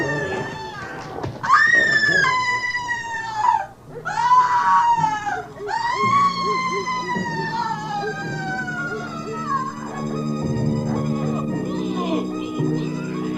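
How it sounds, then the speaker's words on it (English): Shrill, wavering screams of people in blind panic rise and break off in a horror audiobook scene, loud and close, then give way to lower, rougher cries. "Marty heard the screams too"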